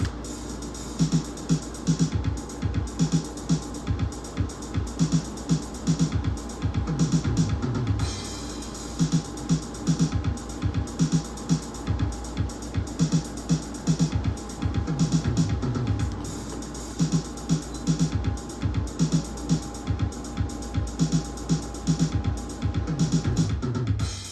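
Roland TR-8S drum machine running the Drew Groove with a crash on the first beat: a steady looping beat of punchy kicks and snares under a constant bright wash of cymbal, played continuously and fairly quiet.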